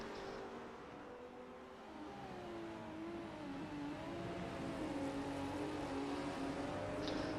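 Ford Capri and Porsche race cars in a racing sim at Imola, engines roaring and rising in pitch as they accelerate down the main straight, steady and fairly close with no talk.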